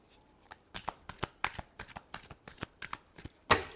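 Tarot cards shuffled close up in quick riffling bursts of papery flicks and taps, ending with a louder final snap as the deck comes together.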